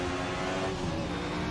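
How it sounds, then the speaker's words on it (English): Simulated racing car engine in Assetto Corsa on the Nordschleife, a steady droning roar held at constant revs for a moment, with no talk. "Oh dear, the noise on that car."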